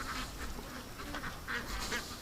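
A small flock of pet ducks quacks near a lake: several short, fairly faint quacks repeat irregularly over steady outdoor background noise.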